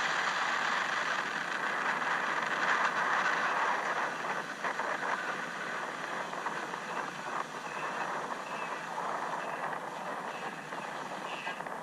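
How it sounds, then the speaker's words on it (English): Falcon Heavy rocket engines at the USSF-67 liftoff roar as a steady, broad, distant rumble with crackling texture, holding near-constant loudness throughout with no talk over it. "Engine full power. And liftoff of USSF 67. Go Falcon Heavy."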